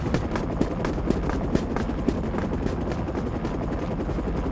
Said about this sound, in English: Attack helicopter detected.